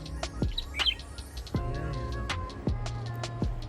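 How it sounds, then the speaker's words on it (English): Bird calling near Candolim Beach among cashew trees, a series of short, bright chirps and tweets repeating irregularly, fairly close, over soft background ambience. "The bird is calling us."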